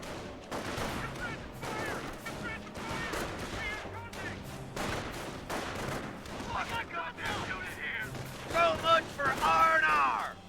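Squads shooting from building windows in Company of Heroes 1, a steady stream of overlapping rifle and machine-gun fire with scattered heavier cracks, continuous and fairly loud.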